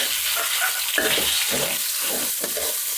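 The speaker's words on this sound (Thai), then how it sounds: "หมูบดต้องมาผัดครับ" Minced pork stir-fries with chili and garlic in a hot pan, filling the space with a loud, bright, continuous sizzle and rhythmic scraping bursts as the meat is tossed and broken up.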